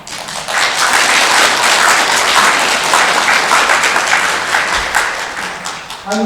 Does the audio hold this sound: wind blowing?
no